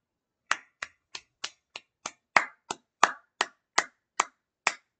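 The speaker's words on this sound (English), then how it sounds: "I got to clap it up, man." Thirteen sharp, single hand claps from one person in a quiet room, evenly spaced about every third of a second, crisp and close with silence between each clap.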